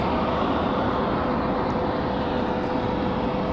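An American Airlines Boeing 737-800 roars steadily on departure from Raleigh-Durham International, a loud, unbroken wash of jet engine noise with no voices.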